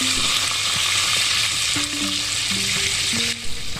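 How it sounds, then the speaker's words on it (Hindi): Kashmiri chicken kebabs fry in a pan with a constant loud sizzle, while faint tonal background sounds drift beneath it. "अब इनको मैं फ्राई करूँगी।"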